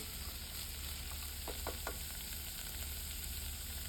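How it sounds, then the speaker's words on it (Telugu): Cashew nuts frying in hot oil with ginger garlic paste for a foxtail millet vegetable biryani, a quiet steady sizzle with a few soft scraping stirs in the middle, close and without talking. "కొద్దిగా జీడిపప్పు వేసి వేగనిచ్చి"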